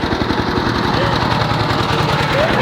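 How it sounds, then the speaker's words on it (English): A tractor engine runs in a rice field in Laos, a loud, close, steady chugging drone with rapid pulsing knocks throughout and no pauses. "tractor interruption."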